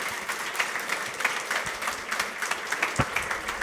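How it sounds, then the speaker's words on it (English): Audience applause for conference panelists at an ESG event, a steady dense patter of many hands clapping at moderate distance with no voices over it. "Huge applause for our panelists."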